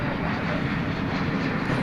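A jet airliner at DFW Airport at night rumbles as a steady, broad engine roar, fairly close and unbroken, with no voices.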